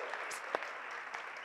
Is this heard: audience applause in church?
yes